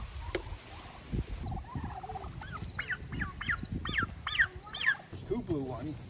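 Several turkeys gobble in bursts of rapid warbling calls from a short distance behind, mixed with purring and clucks from pasture-raised poultry on a home farm, rising louder toward the middle and end.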